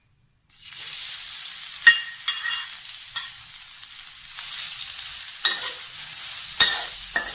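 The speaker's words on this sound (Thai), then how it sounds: "เราก็จะนำเห็ดหอมนะครับลงเจียวเลยครับ" Shiitake mushrooms crackle as they fry in about two tablespoons of hot oil in a wok for vegetarian kuay jap. A steady sizzle starts after a brief silence, and a few sharp utensil scrapes and clanks break through it.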